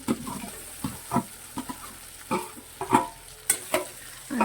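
Sesame and peanut stuffing for stuffed brinjal is sautéed with a gentle background sizzle and a string of uneven scraping, stirring strokes close at hand.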